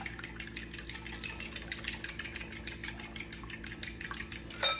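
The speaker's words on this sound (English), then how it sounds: "Give this a whisk." A whisk beats a mixture in a bowl in a home kitchen, quick regular clinking strokes against the sides at a steady rhythm, close and moderately quiet, ending with a sharper knock.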